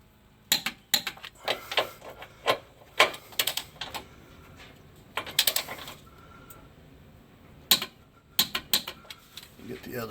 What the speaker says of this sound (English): I'm just going to go ahead and torque these to 35 foot-pounds